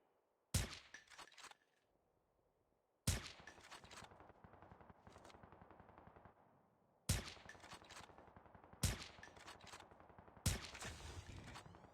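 Bursts of automatic gunfire from a gun in Call of Duty: Mobile, five sharp loud volleys spaced a couple of seconds apart with clattering tails and brief gaps, no voices.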